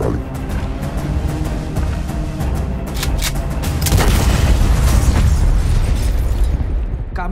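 Booming explosions from a bomb-threat thriller film trailer set in Jakarta, a dense, loud low rumble that swells around the middle and keeps rolling under a cinematic score with sharp bursts throughout.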